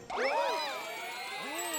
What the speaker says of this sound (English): Oh my goodness, it's the kitty bells.